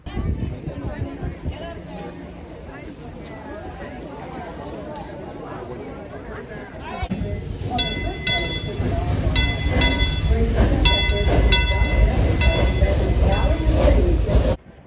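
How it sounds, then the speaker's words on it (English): Parking lot tram at Silver Dollar City amusement park, a steady rumbling ride that grows louder midway with a rhythmic clatter and squeal, heard beneath ongoing crowd chatter. "we have to go on the tram"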